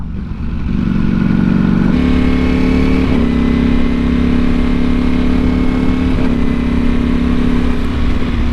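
A motorcycle is ridden along an open road in summer, with a loud, continuous engine hum and wind rush close to the mic. The engine pitch steps up slightly early on and then holds steady.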